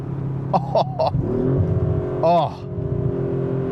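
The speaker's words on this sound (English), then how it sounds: "Listen to that exhaust, guys." A 2024 Audi RS5 Sportback Competition in dynamic mode revs its exhaust in two short bursts followed by a longer rising rev with burbles, heard close from inside the car as a voice briefly exclaims.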